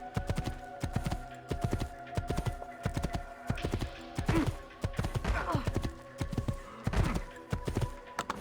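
Hooves clip-clop in a fast, steady rhythm as a horse in the Assassin's Creed 2 video game moves along, with a few whinnying neighs rising above the hoofbeats.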